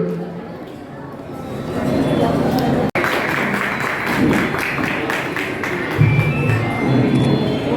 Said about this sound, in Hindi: सभी के लिए सामूहिक तालियों के द्वारा इनका स्वागत किया जाए।